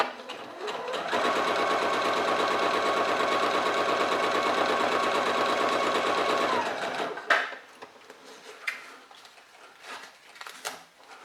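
Singer Featherweight C240 sewing machine sewing a straight stitch through fabric, giving a steady, close, rhythmic mechanical whir for about six seconds before stopping, followed by a few light clicks and handling noises.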